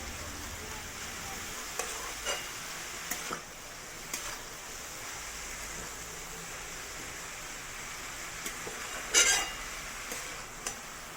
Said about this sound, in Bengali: আর এখানে বাঁধাকপি তরকারি করছি।